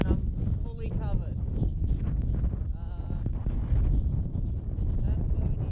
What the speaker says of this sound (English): The wind is ripping, and I'm fully covered.